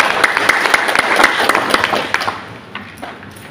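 Audience at a regional working meeting of a livestock breeders' association claps loudly with sharp individual hand claps, the applause thinning and fading over the last second or so.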